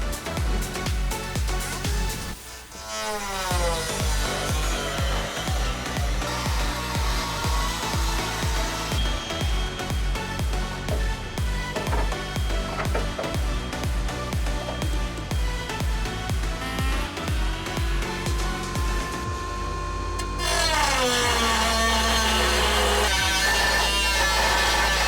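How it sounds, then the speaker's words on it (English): An angle grinder cuts into the metal body of a Nissan 240SX S14, a loud continuous whine with a shifting pitch that runs almost unbroken and grows harsher and louder near the end. "just a horrible grinding sound"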